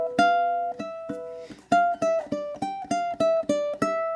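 Two ukuleles play a measure from a song together, a steady run of crisp plucked notes and chords, each decaying before the next, with no voices.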